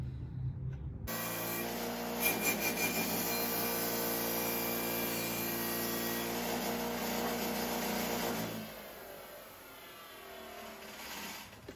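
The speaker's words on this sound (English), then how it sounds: "I think I can do the rest with the wire brush." A wire brush scrubs paint off metal pieces of a vintage folding step stool, giving a loud, steady, whirring, grinding buzz for about eight seconds before dropping to a quieter, rougher scraping.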